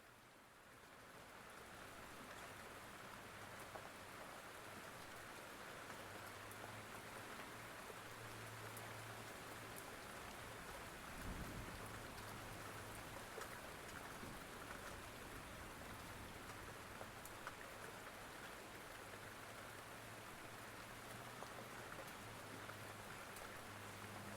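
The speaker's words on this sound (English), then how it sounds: "Enjoy this storm now." Steady, dense rainstorm pouring continuously on surfaces, a broad even hiss of falling rain with a low rumble underneath, sustained at an unchanging level throughout with no voices.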